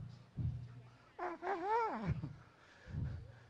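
A voice imitates a dog's whimper, a rising and falling whine, with muffled low sounds just before and after.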